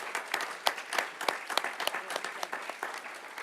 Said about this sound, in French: on peut applaudir, je pense, le parcours d'Elisabeth Roudinesco.